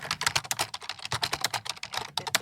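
Rapid, close clatter of keys on a computer keyboard typing into a notepad, a dense uneven stream of taps with no voices.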